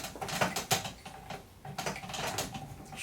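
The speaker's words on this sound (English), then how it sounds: "screw it all the way out until it's on the light stand good" Flash head of a Flashpoint/Godox Xplor 600 Pro TTL strobe screwed onto a light stand, with close, irregular clicking and ratcheting metal scrapes in short bursts and no talk.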